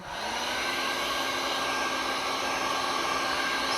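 Steady, loud blowing roar of a heat tool played over resin, a continuous airy whoosh with no breaks and no voices.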